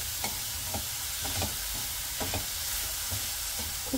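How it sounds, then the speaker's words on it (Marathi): Sweet modak filling is sautéed on low flame, giving a gentle continuous sizzle with soft, intermittent scrapes of a spatula against the pan. "लो फ्लेमवरती आपण हे परतून घ्यायचंय"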